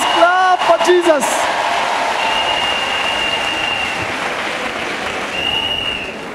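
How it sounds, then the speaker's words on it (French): A church congregation applauds for Jesus with dense, sustained clapping that fills the whole stretch, while a voice speaks briefly over the start. "Let us clap for Jesus."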